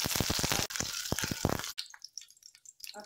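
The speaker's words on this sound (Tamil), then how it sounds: "கடுகு வெடிக்க ஆரம்பித்ததும்" Mustard seeds and urad dal crackle and sputter in hot oil in a kadai while cabbage poriyal is cooked, making a dense close sizzle broken by rapid popping bursts, then fading to scattered pops.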